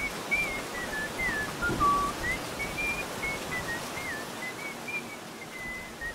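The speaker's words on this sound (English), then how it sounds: "Someone is whistling." Someone whistles a wavering, meandering tune in a single clear line over a quiet low background during an Aliens: Dark Descent livestream, with no talking.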